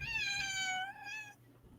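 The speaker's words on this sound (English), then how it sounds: "The cat is interrupting the stream." A house cat meows in a drawn-out, rising and falling call lasting over a second, close and clear, with no talking over it, then quiet.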